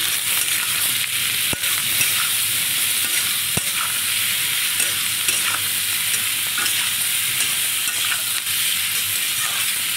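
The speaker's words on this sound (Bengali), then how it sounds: "নুন হলুদ দিয়ে আলুটা আর একটু নেড়ে নেব।" Small potatoes with salt and turmeric stirred in a frying pan over steady, loud sizzling, with a spatula scraping and clicking against the pan at irregular moments throughout.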